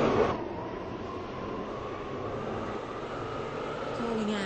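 A Class 730 train runs from Newry to Connolly, heard from on board as a steady, moderately loud rumble with a faint tonal whine running through it.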